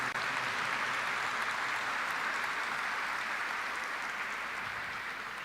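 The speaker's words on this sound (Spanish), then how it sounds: "Con este aplauso le agradecemos." A congregation applauds the bishop at a Mass in Caacupé, with dense, steady clapping filling the space from start to finish, loud and even with no voices rising above it.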